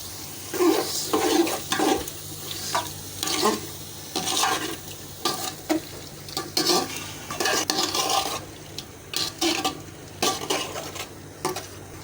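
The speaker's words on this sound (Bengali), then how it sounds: "মশলাটা কষে আসে, দেওয়া হচ্ছে জালি কুমড়ো, দেওয়া হচ্ছে পেঁপে, কাঁচা পেঁপে, দেওয়া হচ্ছে আলু" Ash gourd, raw papaya and potato tumble into a spice paste frying in a pan, bringing repeated scraping stirs, clinks of a utensil against the pot and a steady low sizzle underneath, close and moderately quiet.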